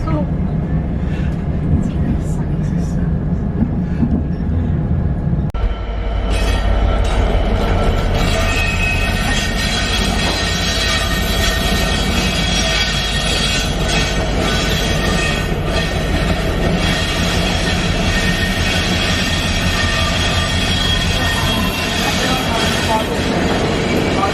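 A train rumbles and rolls along the rails arriving at Leicester station, with rising wheel noise and clatter, loud and close, steady throughout.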